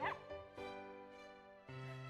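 A six-month-old puppy barks and yips indoors on a tiled floor after its ball rolls under furniture. Three close, loud, tonal bursts come in quick succession, the last held longer.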